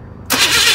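A pickup truck engine cranks and catches, jumping from quiet into a loud, steady running roar close by.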